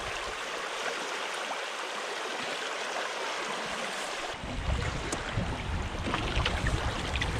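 A canoe moves along the Root River in Minnesota, with steady rushing water and wind, then closer splashing and dipping of paddle strokes grows louder in the second half.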